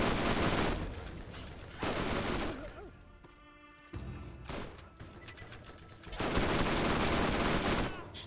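Bursts of automatic gunfire from a weapon in the video game Borderlands GOTY Enhanced, loud and dense, coming in several clusters separated by quieter gaps.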